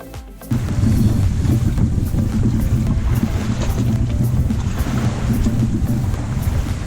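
Steady 10-knot wind roaring over a sailboat under way, a loud continuous rush with low buffeting and water wash, heard alone without talk.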